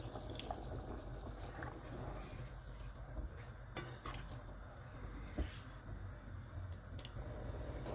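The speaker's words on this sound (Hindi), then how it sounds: "उबाल आ गया, इसमें चावल डाल देंगे।" Rice and lemon juice go into a pot of boiling water while cooking achari beef pulao, with steady close bubbling and a few small splashes and clinks throughout.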